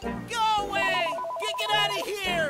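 A telephone rings in the VR office game Accounting+, a steady repeating electronic trill running under loud, shouted speech that dominates the clip.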